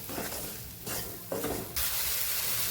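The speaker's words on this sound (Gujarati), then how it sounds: "લોટને સરસ આપણે મિક્સ કરી દઈશું" Gram flour being stirred with chillies in a pan for a sweet-sour sambharo, a soft scraping and sizzling texture in uneven bursts, close and fairly quiet, with no talking.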